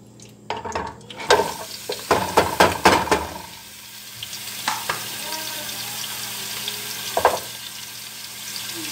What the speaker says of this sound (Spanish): Y ahí puse la chuleta a sofreír, como pueden ver ahí. Esta es la chuleta sofriéndose.